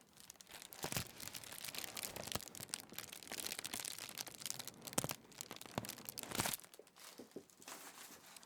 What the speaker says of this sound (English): let me move this bit of paper out of the way